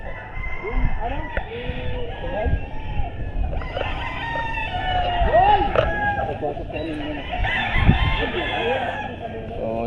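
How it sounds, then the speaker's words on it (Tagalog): Roosters crow repeatedly at a game farm, several birds calling back and forth from near and far, with clucking and people talking underneath. "Dami po nilang manok."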